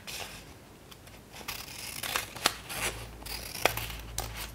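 Scissors snip through paper, cutting out dinosaur pieces in a handful of short, crisp cuts spaced irregularly, close up and fairly quiet.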